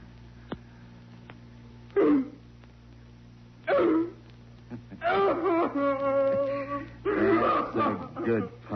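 A man imitates a dog with several loud, separate barks and yelps, spaced across the scene. A faint steady background hum runs underneath, and voices speak in between.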